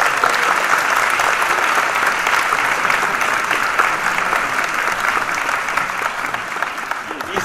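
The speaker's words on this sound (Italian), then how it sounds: "quindi meritate un applauso" A concert audience at an Epiphany concert at the Giuditta Pasta theatre claps in sustained, dense applause, loud and even throughout with many hands at once, slowly easing toward the end.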